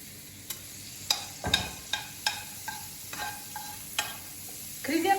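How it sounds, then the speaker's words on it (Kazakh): Shrimp frying in hot oil in a pan for a rocket and shrimp salad, with a soft steady sizzle under a series of sharp clinks and scrapes from stirring, close by, no talk. "Креветке қуырылғанда ол түсін өзгертеді."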